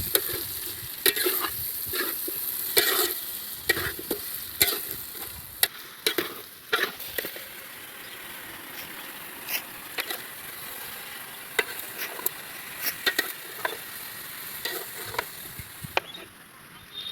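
Prawns fry in a pan of village-style raw jackfruit curry with tomato, a steady sizzle running throughout while a utensil stirs them with frequent sharp scrapes and clacks, close and alone without voices.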